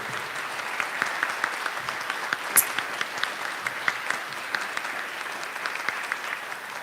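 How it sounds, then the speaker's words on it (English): A room of attendees gives a big, dense round of applause for Business Hall of Fame inductees, continuous clapping with sharp individual claps popping out and one brief bright spike midway. "If we could do one more just really big round of applause for these inductees."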